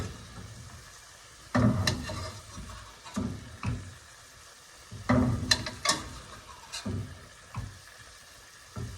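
Fish fillets fry in butter with rosemary in a pan on the stove, giving a soft sizzle broken by irregular scraping and clattering from basting and stirring.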